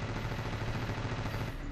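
Continuous rapid gunfire from the Ravenfield video game, a dense, loud burst of automatic shots with no talk.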